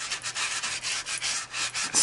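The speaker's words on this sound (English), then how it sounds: "start sanding it" A sanding block rubs back and forth over an embossed metal piece in quick, steady strokes, close and loud with no voices.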